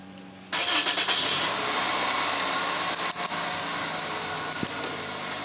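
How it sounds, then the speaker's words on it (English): A car engine cranks and catches, then keeps running at a steady idle, loud and close, burning off white smoke before a spark plug change, with a couple of faint clicks near the end. "I'm going to start the engine and let the white smoke burn out"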